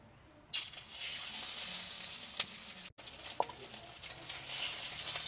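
Tengra fish hiss and sizzle in hot oil in a wok over a clay stove, a steady bright frying noise with a few sharp spatters and a brief cut midway.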